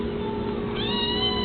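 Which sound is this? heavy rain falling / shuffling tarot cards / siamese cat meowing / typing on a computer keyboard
siamese cat meowing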